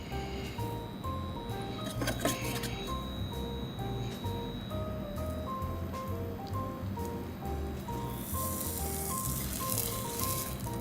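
Salmon fillet cooking skin side down in a hot pan, a steady broadband sizzle running throughout at even loudness, with faint tonal background music layered underneath.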